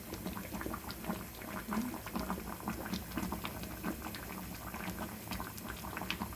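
Pumpkin pieces with sugar stew in a pan over low heat, a close, continuous bubbling and sputtering with fine crackles throughout, with no talking.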